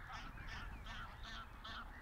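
Several geese honk repeatedly on a pond, the calls coming in steady overlapping bursts over a constant low rumble of outdoor background noise.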